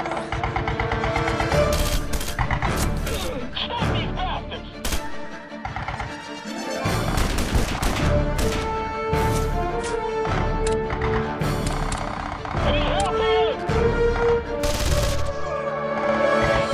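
Gunfire rattles through a firefight in Red Faction Guerrilla, with rapid bursts and single shots close up, along with occasional crashes and impacts, keeping a busy, dense rhythm that dips briefly midway.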